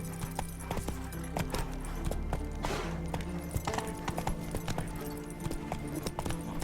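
A horse gallops in The Witcher 3, its hooves clip-clopping in a steady rhythm over a low ambient game drone, with no speech.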